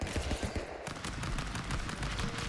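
Rapid bursts of gunfire from the brawler game Stick Fight, a dense chaotic clatter of shots and impacts filling the whole clip at close range.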